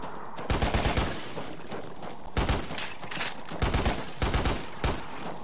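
Gunfire in the Lost Planet video game, in a city warzone battle: repeated loud bursts of shots come in uneven clusters across the clip, with steady background noise between volleys.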